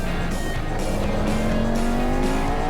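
A race car driven hard around Circuit de Pau, the French street circuit in Assetto Corsa, its engine rising steadily in pitch at close range with a continuous loud drone and a faint tyre squeal.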